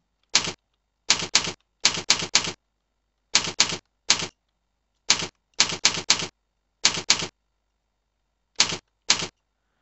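Keys tapped on a computer keyboard while entering text in Adobe Photoshop: short, crisp bursts of clicks in uneven clusters of two or three, separated by clean silent pauses, close and alone.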